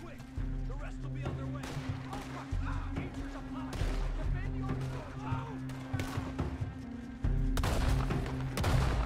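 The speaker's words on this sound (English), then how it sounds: "Oh, yeah, we're shooting them." Rapid bursts of gunfire from a Red Dead Redemption 2 shootout crackle almost continuously, with loud volleys layered over a droning game score and occasional talk.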